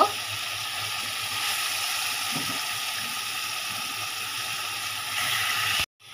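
Pangas fish pieces sizzle and fry steadily in a pan of cooked-down spice masala and tomato, a close, even hiss that cuts off abruptly near the end.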